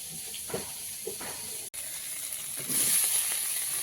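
Crab pieces fry in hot oil in a pan, giving a continuous close hiss and sizzle with faint bubbling, briefly cut off and then swelling louder and brighter in the last second.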